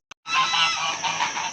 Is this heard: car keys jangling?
no